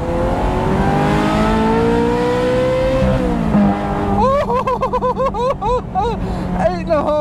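Ferrari 355 engine revving on a country road, a smooth rising high-pitched wail that climbs through the gears, with a person talking over it.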